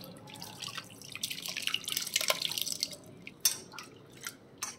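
Tamarind juice strained by hand drips and splashes into a vessel, a close run of wet trickles and patters that thickens, then breaks into a few separate drips.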